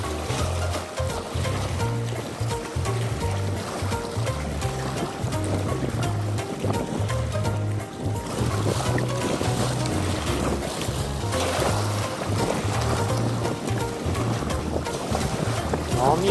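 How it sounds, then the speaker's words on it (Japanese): Strong wind buffets a small fishing boat on rough water while sea bass fishing, with constant loud wind rumble against the microphone and rhythmic low thumps of waves hitting the hull throughout. "爆風だ。"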